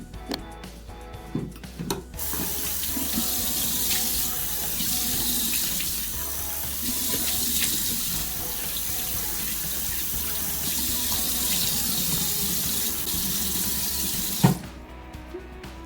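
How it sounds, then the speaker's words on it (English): Tap water running into a sink while a face is rinsed, a steady close gush lasting most of the stretch, with a few knocks before it starts and after it stops. "And then you just, you can't really see it, but you just rinse it."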